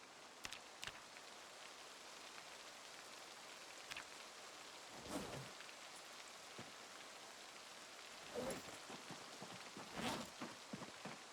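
Steady rainfall patters in a survival video game, with occasional deeper rumbles of distant thunder rolling through at intervals, no voices.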